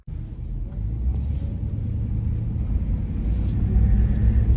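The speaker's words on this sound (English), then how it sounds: "We are driving once again to the craft fair" Low, steady road rumble inside a moving car on a freezing Sunday morning, a constant engine and tyre drone that swells slightly toward the end, with no talk over it.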